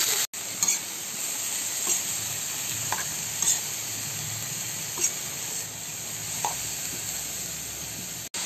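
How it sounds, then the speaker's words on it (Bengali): Whole cumin, cinnamon and cardamom sizzle in oil before cabbage goes into the pan for a ghee-fried cabbage dish: a steady, close frying hiss with a few faint clicks and stirring scrapes, no voices. "তেলে দিয়ে দিচ্ছি গোটা জিরা, দারচিনি, এলাচ ভেজে নিচ্ছি একটু। এরপরে এর মধ্যে বাঁধাকপিগুলো দিয়ে দিচ্ছি।"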